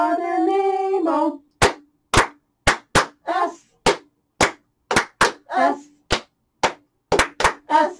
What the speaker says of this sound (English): You're right, four claps.